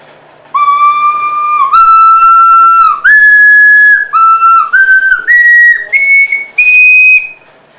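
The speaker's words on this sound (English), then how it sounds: "here's a small ocarina. It's kind of a whistle slash flute." Small ocarina playing a short melody of clear, pure, high whistle-like notes, loud and close, each note held briefly with distinct steps between pitches and no talking.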